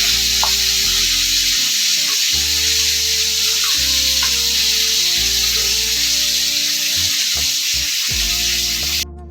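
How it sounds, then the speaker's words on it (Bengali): Pomfret fish frying in hot oil, giving a steady, close sizzling hiss that runs the whole way through, with a soft musical backing underneath. "এই একইভাবে আমি বাকি মাছগুলোও ভেজে নেব।"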